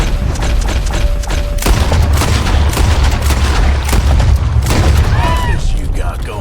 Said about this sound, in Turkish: Ancak silah sesleri tüm kasabadan duyulmuştu ve polisler peşime düşmüştü